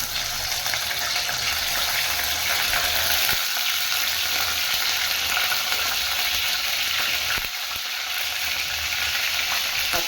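Small onions tempering in hot oil for carrot gravy, a loud, steady, bright sizzle and crackle of frying throughout, with a couple of faint clinks and stirring touches.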